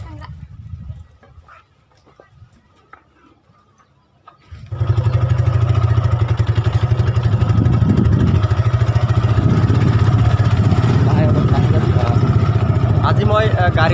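A motorcycle engine starts up and settles into a loud, steady idle close by, following a few seconds of quieter rustling.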